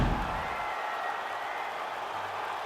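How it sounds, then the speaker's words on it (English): A crowd applauds after a round in a UFC 5 simulated bout, a short, moderately faint wash of clapping with no voices over it. "So the crowd voicing its appreciation after that round."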